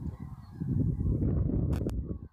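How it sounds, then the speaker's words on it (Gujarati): Flamingos call in a low, honking chorus at the water's edge in the Rann of Kutch, a dense, steady flock sound that is heard from close by. "ફ્લેમિંગો જેને કહેવાય એ ઊંચ પક્ષીઓ ઘણી માત્રામાં અહીં પાણીના કિનારે બેઠા છે અને ઉડી રહ્યા છે"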